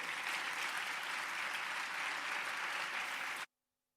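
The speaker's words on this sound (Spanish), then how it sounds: "Un fuerte aplauso para Teresa Valdés Solís" Steady, dense applause from a large audience greeting a speaker at a science outreach talk on hydrogen, loud and continuous for about three and a half seconds before cutting off abruptly into silence.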